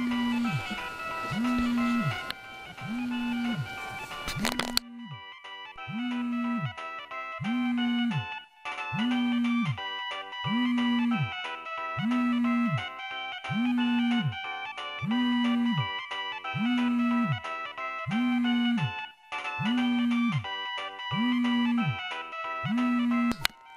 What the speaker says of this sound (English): I hear the sound of her phone ringing coming from the pack that I'm holding